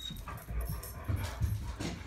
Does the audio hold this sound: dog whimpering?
yes